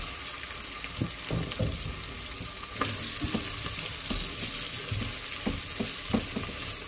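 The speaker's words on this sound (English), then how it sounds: "Then let's add the chopped onion and garlic. Saute until they're aromatic." Chopped onion and garlic sauté with browning pork for mongo guisado, a steady close sizzle broken by scattered stirring scrapes and clicks of a utensil in the pan.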